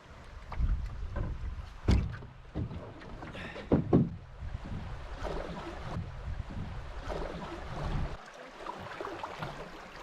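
A canoe or kayak on river rapids in a national park, with irregular splashes and paddle strokes in the water, soft rushing flow and occasional knocks against the hull, fairly faint and close.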